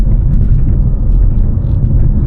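Steady loud engine rumble and road roar from a 2019 BMW 440i Gran Coupe driven in Sport Plus mode with manual shifting, continuous without breaks or talk.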